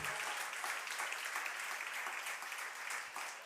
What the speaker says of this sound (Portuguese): aplauda forte ao Senhor